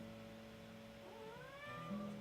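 A soft, drawn-out cat meow rising and falling once, faint and nearby, with a steady low hum in the background.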